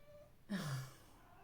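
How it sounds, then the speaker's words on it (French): A pet cat gives a single short meow indoors, close and moderately loud, lasting under half a second before fading into quiet room tone. "c'est l'un de mes chats qui miaule"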